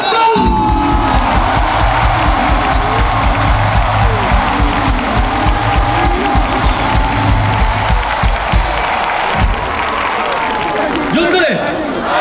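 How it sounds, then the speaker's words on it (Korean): A large crowd at a joint Korea University and Yonsei University cheering orientation applauds and cheers loudly and continuously, with whoops and shouts rising over steady clapping throughout. "박수!"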